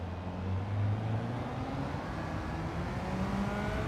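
A race car's engine in Gran Turismo 7 drones steadily at moderate volume with a slowly shifting pitch, and no talking is heard.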